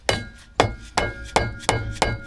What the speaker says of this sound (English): Time to get a hammer.